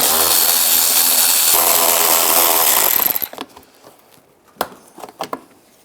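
A power tool spins screws out from under the panel of a 2005-15 Nissan Xterra with a 7mm socket, running loud and steady for about three seconds, then stopping, followed by scattered clicks and clanks of parts.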